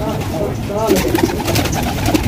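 A Meena Kachhpara fancy pigeon coos close by in a few low, rolling calls over a steady background hum.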